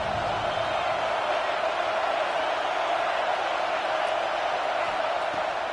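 Home crowd at a Michigan versus Texas college football game cheering and roaring, a steady broad wash of distant stadium noise that barely rises or falls.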